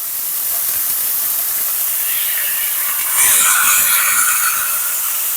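Turkey burgers sizzle in a pan with a loud, bright, continuous hiss that swells a little partway through, close up and without any talk.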